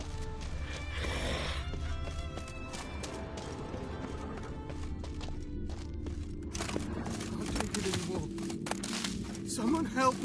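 Roach, the horse from The Witcher video game, runs at a quick rhythmic hoofbeat with snorts and a whinny, close by, while voices speak over the galloping.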